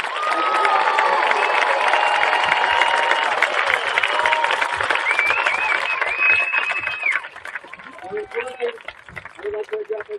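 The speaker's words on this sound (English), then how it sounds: "one round of applause for all of our 8th graders" Crowd applause and cheering for eighth graders at a junior high school graduation ceremony, a dense, loud roar of clapping with shouts that fills most of the span before thinning toward the end.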